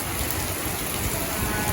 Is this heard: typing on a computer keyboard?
no